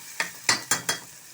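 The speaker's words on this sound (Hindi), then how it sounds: "अब हम इसमें टमाटर शामिल करते हैं।" Tomatoes going into a sizzling frying pan, heard as four quick scraping stirs in close succession over a quiet sizzle, near and moderately loud with no talking.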